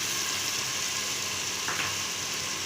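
Chopped tomatoes are dropped into a hot frying pan for tahari, giving a steady, dense sizzle of oil that holds throughout at moderate loudness, with a faint stir or clink partway through.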